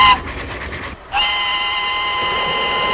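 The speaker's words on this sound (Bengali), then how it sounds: "হঠাৎ শুনছি ট্রেনটা আসছে, ঘন্টা দিচ্ছে" A train arriving at a station sounds its horn: a few short pulsed blasts, a brief gap, then one long, steady, loud tone held to the end.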